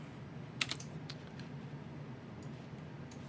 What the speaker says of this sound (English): And we'll type in our IP address.